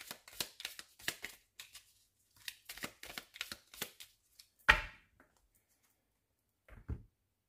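Tarot cards handled and cut on a table during a reading: a run of quick soft shuffling taps and slaps, then a sharper card snap, and a brief final cut of the deck after a pause.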